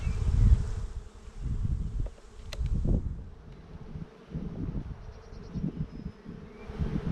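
Honey bees hum and drone around an opened beehive during a frame inspection for adding a second honey super, a continuous low buzzing that swells and fades with a few faint rustles and clicks, close by and without speech.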